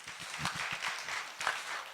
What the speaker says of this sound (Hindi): मैं चाहूँगा सभी लोग तालियों से उनका स्वागत करें